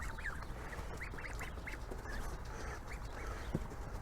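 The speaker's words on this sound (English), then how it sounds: "A duck feeding frenzy." A group of ducks quacks repeatedly during a feeding frenzy, a cluster of overlapping nasal calls close by over a steady outdoor noise bed.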